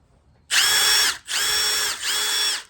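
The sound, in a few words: cordless drill driver running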